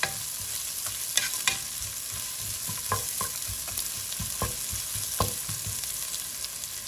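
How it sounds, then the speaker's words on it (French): Sliced onions frying in hot oil for a chicken biryani pulao, a steady close sizzle with occasional scraping clinks of a utensil stirring through the pan. "je vais venir mettre les tranches d'oignon"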